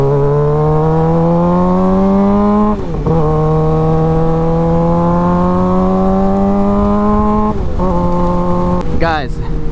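A Suzuki GSX-R600 sport bike with a new exhaust revs hard and steadily, holding a loud, rising engine note with brief dips between throttle pulls, recorded close up.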